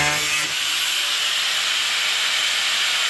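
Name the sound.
angle grinder cutting metal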